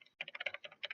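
Rapid clicking of computer keys in short bursts, close by, with a brief pause near the start and no voices.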